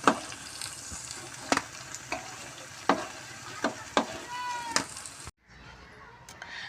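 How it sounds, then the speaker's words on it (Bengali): Spicy pitha cakes frying in oil, a steady sizzle with repeated sharp utensil clicks as they are turned, then a brief quieter pause. "এবার সবগুলো আমি এরকম করে উল্টে দিয়ে লাল লাল করে আমি ভেজে তুলে নেব।"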